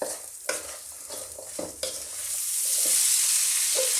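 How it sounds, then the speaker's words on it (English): Fennel and asparagus seasoned with salt and black pepper sautéing over medium heat, with several utensil scrapes and stirring knocks early on giving way to a steady, rising sizzle. "we're just going to saute these around for about 3 minutes"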